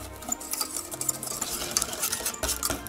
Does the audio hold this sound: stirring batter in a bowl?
yes